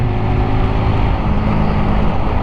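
A motorcycle engine drones loudly and close while cornering, a continuous throaty hum with no speech over it.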